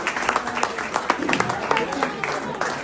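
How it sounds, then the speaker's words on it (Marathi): Guests at a wedding anniversary celebration applaud a couple, a steady wash of many overlapping claps with a few louder individual slaps, with voices mixed in underneath. "आपण सगळ्यांनी जोरात टाळ्या वाजवून अशा जोडप्याचा सन्मान केला"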